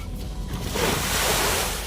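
Fast, strong current of the flooded Ganga river at Buxar during the monsoon, a steady broad rushing roar of surging water with no voices, continuous and close throughout.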